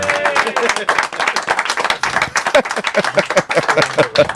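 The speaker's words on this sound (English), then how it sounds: "Well, give him a round of applause." Studio audience claps in a sustained round of applause on a TV show, with dense, steady clapping and a voice briefly audible over it.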